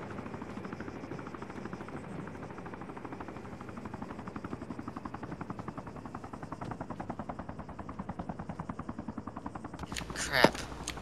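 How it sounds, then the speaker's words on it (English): A Black Hawk helicopter in the ArmA 3 video game thrums with steady rotor chop about 300 meters off, a continuous pulsing drone that grows slightly louder before a sharp burst near the end. "Helicopter, 300 meters."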